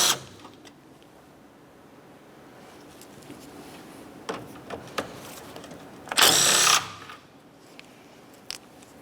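A power tool taking out the 10mm radiator bolts on a 2009-2010 Pontiac Vibe, with scattered clicks and knocks and then one short, loud whirring burst close by, no voices.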